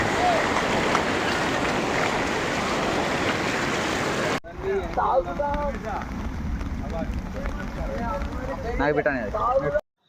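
Swollen rainy-season streams roar loudly and steadily for several seconds, then the water drops back to a softer rush as a person speaks over it.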